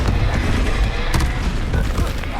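Confringo explosion spell going off in Hogwarts Legacy, a dense run of booming blasts and crackling bursts that fill the clip loudly with no gaps.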